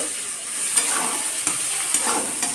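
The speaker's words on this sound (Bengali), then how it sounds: "মাছের তেল ভাজা হচ্ছে বেগুন দিয়ে" Fish fat fries with eggplant in a pan, a bright steady sizzle punctuated by four evenly spaced scraping strokes of a spatula stirring, heard up close with nobody speaking.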